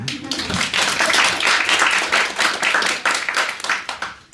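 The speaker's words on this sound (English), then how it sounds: "you could applaud that." A literary reading audience breaks into applause, a dense patter of many hands clapping close and lively, thinning into scattered claps toward the end.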